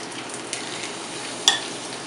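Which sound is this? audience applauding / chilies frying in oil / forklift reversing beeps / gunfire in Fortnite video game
chilies frying in oil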